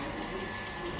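Water running steadily into a vessel being filled for household worship, a continuous close splashing rush with no pauses, at a moderate level.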